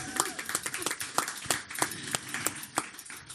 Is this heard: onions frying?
no